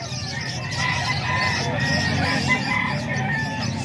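A stag gamecock crows close by, its call rising over a busy backdrop of other fowl clucking and people talking.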